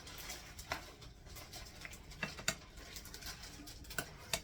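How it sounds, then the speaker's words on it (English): Soft, quiet clinking and scraping as pasta salad with bacon is stirred together in a bowl, with light irregular taps of a utensil against the bowl, a few sharper clicks standing out. "we're going to stir all that together"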